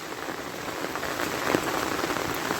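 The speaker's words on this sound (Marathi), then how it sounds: "आता भात लावायचं कंटिन्यू पाऊस चाललेला आहे कंटिन्यू एक दिवस फुल असाच पाऊस आहे" Steady, dense rainfall pattering on rice paddy fields in the Konkan region during a daylong downpour, a continuous wash of drops with no voices.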